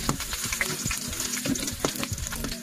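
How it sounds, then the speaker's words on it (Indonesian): Shallots frying in oil in a pan for Acehnese stir-fried anchovies, a steady crackling sizzle with scattered pops and light stirring clatter throughout, close and fairly loud. "Goreng dulu bawang merahnya biar dia ada wanginya."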